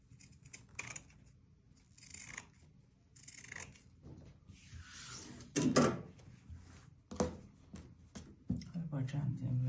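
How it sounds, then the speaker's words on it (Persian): Scissors cutting fabric during sewing: several quiet snips and clicks of the blades come in irregular bursts, mixed with handling noises of cloth and table, close and fairly faint. "میتونیم از این قیچی استفاده بکنیم برای اینکه سرش"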